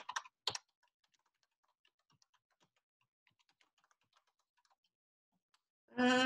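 A computer keyboard is typed on in a fast, soft patter of clicks at close range, opening with a few louder taps and ending with a sudden louder burst of other sound.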